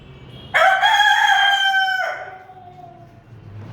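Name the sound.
chickens clucking on a poultry farm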